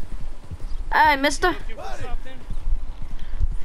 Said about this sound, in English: Come on, horse, go!